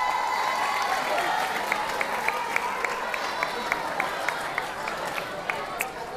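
Steady applause from a seminar audience, a dense wash of many hands clapping with scattered louder claps, sustained at a fairly even level throughout.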